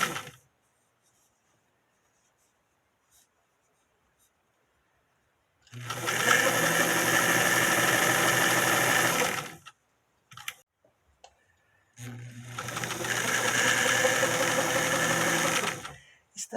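A sewing machine stitches a raglan sleeve seam toward the armpit in two steady bursts of several seconds each, separated by a pause with faint handling clicks.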